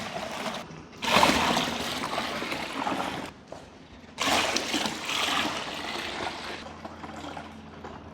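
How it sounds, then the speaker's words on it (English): Tap water pouring into a home-brew fermenter filled to about 23 litres for a Coopers Irish Stout, a steady rushing splash in two long bursts with a brief pause between, close and fairly loud. "now I'm going to fill up the fermenter to 23 litres or thereabouts"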